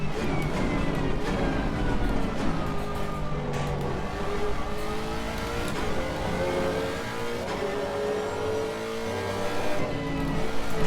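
A GT3 race car engine in Assetto Corsa Competizione at Kyalami, a loud continuous roar with pitch sweeping down under braking and climbing again through the gears, with occasional rattles and bumps from the track.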